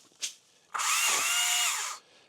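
A power saw cuts through tree trunks during a front yard cleanup, a brief knock followed by a loud sustained high whining buzz for over a second before it stops, with no talking.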